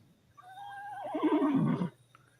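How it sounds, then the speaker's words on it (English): Background horse whinnies from a game scene: one drawn-out neigh rising and wavering before it cuts off, fairly close and clear, with no talking over it. "I hear the horses going every once in a while."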